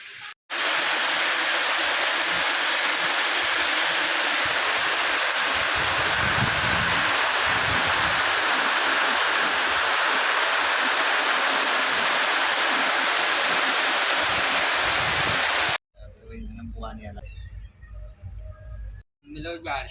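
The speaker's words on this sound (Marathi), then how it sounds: "पाऊस चालू झाला." Rain pours down in a steady, dense hiss that holds loud and unbroken for most of the stretch before cutting off abruptly, leaving a quieter background with scattered voices.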